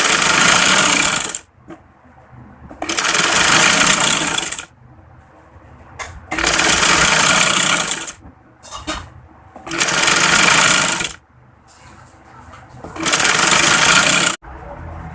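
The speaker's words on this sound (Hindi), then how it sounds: "अब हम इसको इस तरह से सिलाई कर लेते हैं।" A sewing machine stitching tucks into a trouser bottom runs loud and close in several bursts of a few seconds each, separated by short quiet gaps.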